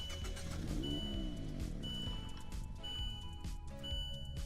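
Mazda MX-5 RF Club with a manual gearbox driving in the Roblox game Greenville, a continuous simulated engine drone with rising and falling pitch sweeps as it pulls away, steady and fairly quiet throughout.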